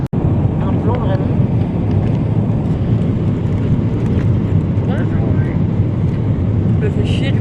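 A steady, loud, broadband roar fills an airplane cabin in flight, a constant engine and air rumble with faint voices murmuring beneath it.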